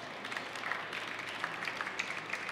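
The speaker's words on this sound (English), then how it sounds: "You can applaud Einride." Audience applause in a hall at a sustainable mobility startup showcase, a steady wash of many hands clapping throughout, moderately loud and continuous with no voices over it.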